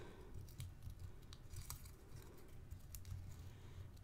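Scissors snip through an art trading card in a steady run of short, crisp cuts over a soft background hiss, fairly close and moderately quiet.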